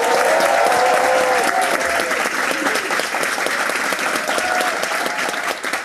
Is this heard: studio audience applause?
yes